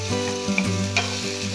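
Garlic and onion frying in olive oil, a brief, close and steady sizzle with a few light stirring knocks.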